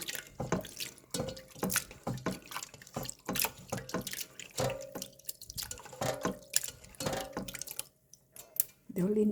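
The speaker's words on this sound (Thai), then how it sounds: "นี่น้ำแรกนะคะ ที่เราล้างกับน้ำส้มสายชูค่ะ" Pork liver is washed in water with vinegar in a kitchen, giving faint splashing, dripping and sloshing in irregular bursts, with someone talking over it.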